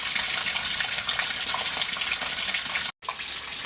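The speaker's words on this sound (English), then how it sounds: "the rain's pouring down now" Heavy rain pours down steadily on a windy day in South Carolina, a dense, loud, continuous hiss with a brief cut near the end.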